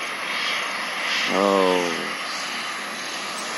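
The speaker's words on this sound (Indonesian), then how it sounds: "Kondisi sekitar bandara Kediri saat pesawat CityLink landing" A Citilink passenger airplane landing at Kediri airport produces a steady, loud, broad engine roar that swells briefly near the middle, with a short exclamation from a nearby person.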